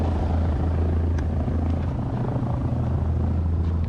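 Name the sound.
small airplane engine taxiing at county airport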